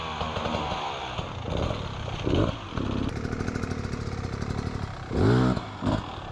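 A Beta XTrainer enduro motorcycle's engine runs close and loud on an off-road practice ride, its note rising in sharp revving bursts between steadier throttle, with some clattering.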